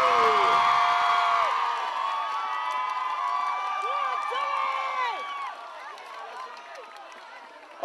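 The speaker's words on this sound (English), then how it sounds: "the crowd couldn't have been happier" A crowd at a festive Christmas lights switch-on in Bedlington cheers loudly, with high whoops and shrieks rising over a broad roar that gradually fades toward the end.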